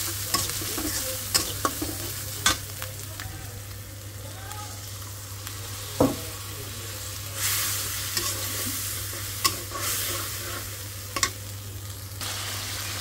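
Hilsa fish frying in hot oil with turmeric, a steady close sizzle running throughout with occasional clinks and scrapes of a stirring utensil against the pan.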